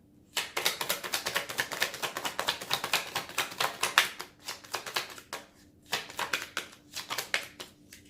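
Tarot cards being shuffled by hand in quick, crisp riffling bursts, a dense rapid patter with a couple of short pauses between rounds, close and clear with no voices.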